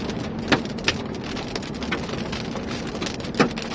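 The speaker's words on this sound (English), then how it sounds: "dime-sized hail for crying out loud" Dime-sized hail and heavy rain pound down in a severe Texas storm, a steady dense roar of rain with a few sharp, louder impacts standing out near the start and end.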